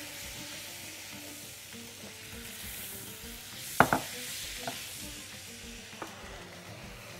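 Tomatoes and butter sizzle steadily in a hot pan at close range, with a few sharp clinks of a utensil against the pan partway through and no talking.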